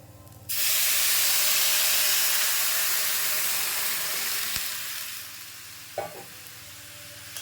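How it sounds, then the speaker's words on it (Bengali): Water is poured into a hot pan of rice and chicken pulao for four cups of rice and hisses loudly at once, a steady close sizzle that slowly eases, with a small clink near the end. "তো এখানে জলটা এবার দিয়ে দেবো।"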